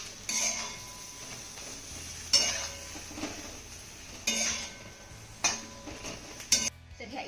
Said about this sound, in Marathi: आता ह्या फोडणीमध्ये ह्या इडल्याना आपल्याला 1 ते 2 मिनिटं चांगल्या परतून घ्यायच्या.